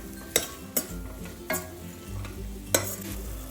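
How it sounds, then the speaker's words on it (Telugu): Tomatoes, mushrooms and peas fry in a pan for pulao, a steady soft sizzle broken by four sharp scraping knocks of a spoon stirring against the pan, close up with no voices. "ఈ టమాటా అంతా బాగా ఫ్రై అయిపోయి మెత్తగా అయిపోవాలి. అప్పటి వరకు వీటిని ఫ్రై చేసుకున్నాం."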